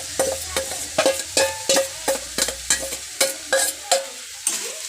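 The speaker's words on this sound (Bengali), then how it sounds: "এবার আমরা ভেজে নেওয়া পেঁয়াজ আর মাংসটা ছেড়ে দেব।" Fried onion and chicken pieces sizzle in a pan for a curry while being stirred, a string of about a dozen sharp scraping strokes in a quick steady rhythm over a low frying hiss, close and with no talking.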